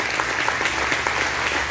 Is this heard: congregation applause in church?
yes